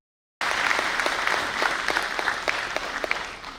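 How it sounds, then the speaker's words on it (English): An audience at a lawyers' gathering bursts into applause after a short silence. Many hands clap together in a dense, steady wash that holds at full strength for about three seconds. "So there should be a big clap for the lawyers who have been heading our country."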